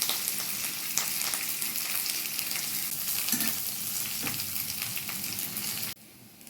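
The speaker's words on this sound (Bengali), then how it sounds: "আমি কড়াইতে তেল গরম করে নিচ্ছি, তার মধ্যে একটি শুকনো লঙ্কা দিয়ে দেব" Dry red chilli and crushed garlic pieces frying in hot oil in a wok, a loud, steady close-up sizzle with occasional spatters and stirring that drops off abruptly near the end.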